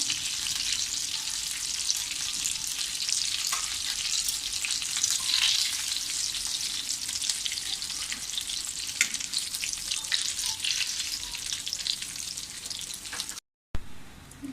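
Semolina-coated chicken pieces frying in hot oil, a continuous bright crackling sizzle that holds steady and close for the whole stretch, with a brief cut near the end.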